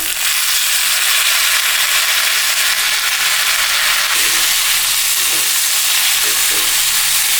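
Radish pieces frying in a pan for chutney, a steady loud sizzle with stirring scrapes, no voices.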